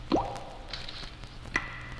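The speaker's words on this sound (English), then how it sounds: "a dripping faucet, as we seem to have here" A dripping faucet gives two distinct drops, each a sharp liquid plop about a second and a half apart, close by in a quiet room.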